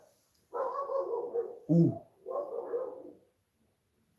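Street dogs barking outdoors in Istanbul, two bursts of rough barking a moment apart, separated by a short sharp yelp, at moderate distance, followed by quiet; a person briefly exclaims.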